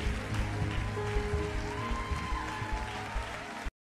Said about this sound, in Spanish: Ese aplauso fuerte, Dios te bendiga.